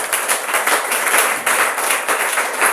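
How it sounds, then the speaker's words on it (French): A church congregation at a Sunday worship service claps and applauds in a steady, rhythmic burst that fills the room, loud and continuous with no voices. "Acclame plus fort que la parole de Dieu."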